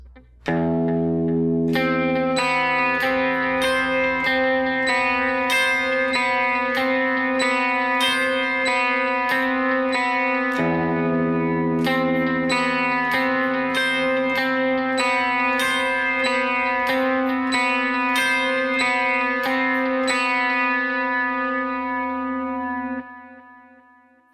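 Guitar notes picked one after another in a steady repeating pattern, with distortion and echo, played continuously for about twenty seconds with no talking.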